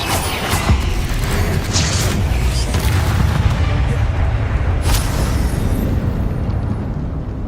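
Bombarda spell explosions in the wizarding game Hogwarts Legacy, a sustained loud booming rumble with occasional sharper bursts layered on top, dense and continuous throughout.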